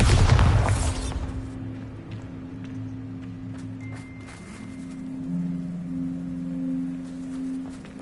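A Bombarda spell in Hogwarts Legacy goes off with a loud, close boom at the start, then fades into a low ringing rumble and droning tones.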